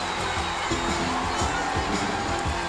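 A sold-out arena crowd at a college gymnastics meet cheers a perfect 10, a dense, constant roar of voices and shouts with no breaks.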